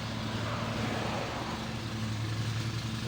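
A Kaylor Chinese electric motor running on a 48V controller gives a steady, continuous hum with a low tonal whine and a broadband hiss, holding at an even level throughout with no talking.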